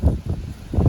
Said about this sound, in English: It is windy, windy, windy out here.